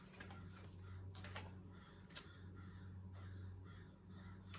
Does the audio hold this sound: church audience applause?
no